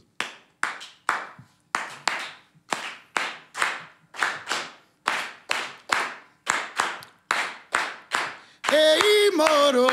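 Crowd at an open mic poetry event claps in unison to a steady rhythm, about eighteen sharp group claps in repeating patterns with brief gaps, then a voice begins singing over the last claps.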